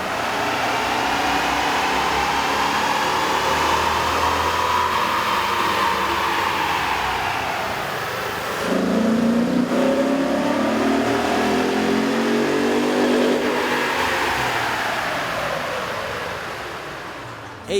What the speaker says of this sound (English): Here's a comparison of the Tundra's sound on the dyno with the stock OEM system versus